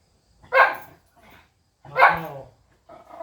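A dog barks indoors, two loud close barks separated by a pause, each followed by softer whining or yipping tails, with a quiet room in between.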